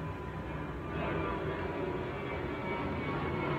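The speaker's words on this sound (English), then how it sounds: "Hi, airplane." Overhead, a fixed-wing airplane drones in a broad, steady roar, moderately faint and continuous with no voices.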